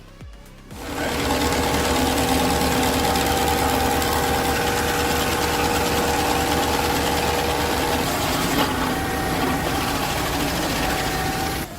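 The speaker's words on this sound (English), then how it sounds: "This specific unit is the Kubota SSG 2524 grinder. The operator is running it on a Kubota SVL 75-3." A Kubota SSG 2524 stump grinder mounted on a Kubota SVL 75-3 track loader runs continuously at a loud, steady, buzzing pitch after a short quiet start, with no voices.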